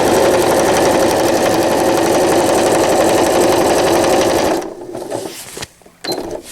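A sewing machine stitches along a seam of a cloth diaper, close and loud with a rapid steady needle chatter, then halts, leaving soft handling noises and a brief bump of fabric movement.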